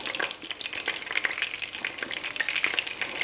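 A flour-coated cod loin fries in hot oil, giving a close, steady crackling sizzle with bursts of popping and spitting, with no voices.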